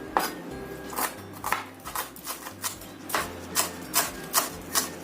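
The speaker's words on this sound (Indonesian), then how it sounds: "Ini kita rajang halus." A knife finely chops spring onions on a board, with quiet rhythmic taps repeating at an uneven pace under a low background hum.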